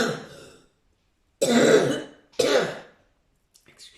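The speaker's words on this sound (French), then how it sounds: "Excusez-moi, je tousse." Three separate coughs from one person, close and fairly loud, the first soft and the next two sharper, with short silent gaps between them and nobody speaking.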